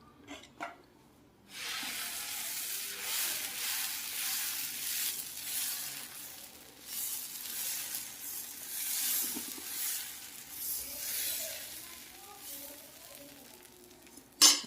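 Dosa batter made from parboiled rice flour sizzles steadily on a hot pan after a drop of oil, a close, continuous frying hiss with faint stirring and utensil scrapes, mostly alone without talk.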